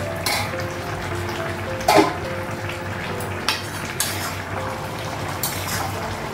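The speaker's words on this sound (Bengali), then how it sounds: "ঢাকনাটা উঠানো" A metal lid is lifted off a cooking pot in a home kitchen, giving one clear clank near the middle. Lighter utensil taps and a soft background sizzle run steadily around it.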